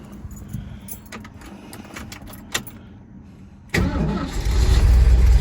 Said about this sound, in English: So we'll start the car, let it idle.